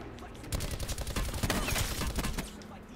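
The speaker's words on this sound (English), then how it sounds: "And we're getting shot at." Rapid bursts of gunfire in the battle royale game Call of Duty Blackout, dense overlapping shots and automatic fire rattling for most of the stretch, moderately loud against the game's ambience.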